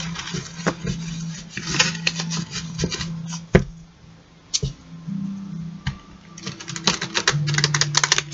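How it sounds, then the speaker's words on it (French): A tarot deck is shuffled by hand, giving rapid, close, crisp clicking and riffling bursts in uneven clusters with brief pauses between, and a low steady hum underneath, with no talking. "On va utiliser dans un premier temps un tarot que je brasse"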